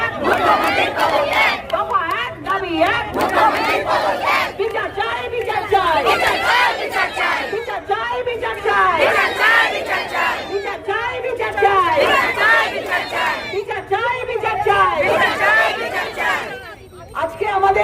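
A large protest crowd chants slogans loudly and in unison, with a leading voice calling and the mass answering in a rhythmic repeating pattern that runs continuously, close and dense throughout.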